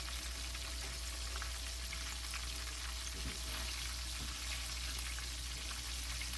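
Copycat Chick-fil-A chicken pieces frying in a pan give a steady, quiet sizzle with a constant bubbling hiss and faint crackles, heard alone without talk.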